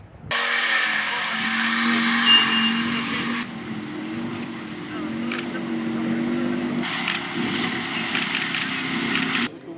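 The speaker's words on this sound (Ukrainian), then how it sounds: "ці бійці вчаться керувати танком Т-64" A T-64 tank driven by soldiers during training, its engine a loud continuous rumble with clattering track noise that rises and falls, close by and steady for about ten seconds.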